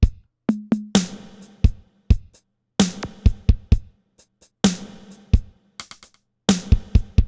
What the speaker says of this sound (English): Then we're going to throw in the kick pattern with the perks